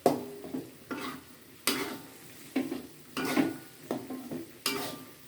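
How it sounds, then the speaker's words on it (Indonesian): Spices with bay leaves and galangal stir-fried in a pan: a soft sizzle under repeated scraping strokes of a utensil against the pan, about one every second, close and clear with no voices. "Daun salam sama lengkuas saya masukkan. Nah, kita tumis terus sampai matang bumbunya."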